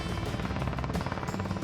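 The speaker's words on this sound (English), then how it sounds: "Captain Kate controls the helicopter by pointing the rotor blades in the direction she wants the helicopter to fly." Rescue helicopter in flight, a steady loud rotor thump with a dense engine roar throughout, continuous and close.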